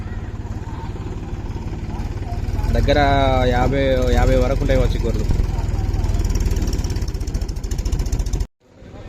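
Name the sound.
tractor engine running, brought to move sheep from flood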